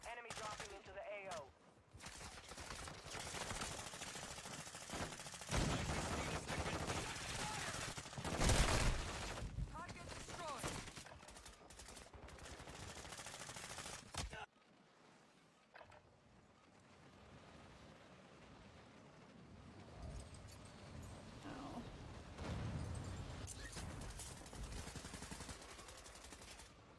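Rapid gunfire and machine-gun bursts crackle through a video game battle, dense and loud at first, then thinner and quieter, with voices talking over the fighting.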